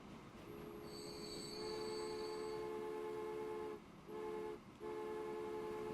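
A train in the video game Transport Fever runs along the track with a sustained metallic wheel squeal and steady rolling rumble, loud and continuous with brief dips near the end.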